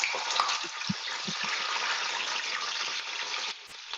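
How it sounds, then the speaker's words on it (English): Plantains frying in hot oil for tostones, a continuous bright sizzle with a few soft low knocks and stirring sounds, fairly close and steady until it drops slightly near the end. "Frying up your plantains? Gonna make tostones."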